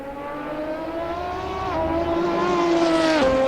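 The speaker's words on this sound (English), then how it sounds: "But the noise of the car, absolutely fantastic." A race car engine in the Assetto Corsa driving game, loud and close throughout, its steady high harmonic whine climbing as it revs, with a quick shift-like drop near the end.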